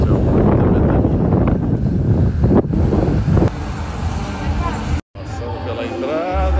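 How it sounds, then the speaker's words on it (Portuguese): Cold, strong wind gusts buffet the microphone on a trip in Espírito Santo, Brazil, roaring loudly under a person talking, with a brief dropout near the end. "Nossa, que vento frio, meu Deus do céu. Muita ventania."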